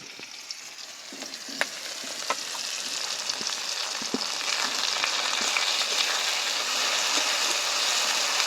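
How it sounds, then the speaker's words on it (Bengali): Chopped onion, tomato, green chilli and ground garlic fry in a pan for a Bengali chicken kosha, a continuous sizzle growing louder with scattered scraping and tapping from stirring, no voices. "পেঁয়াজ রসুন ভালোভাবে ভাজা হয়ে গেছে"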